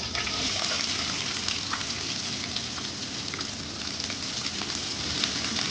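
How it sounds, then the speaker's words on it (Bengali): Four chopped onions frying with bay leaves in two tablespoons of oil for a dried loitta fish bhuna: a steady, loud, even sizzle throughout with fine crackles, no pauses and no voices. "2 টেবিল চামচ তেল দিয়ে দিলাম, কুচানো পেঁয়াজ দিয়ে দিচ্ছি 4টা।"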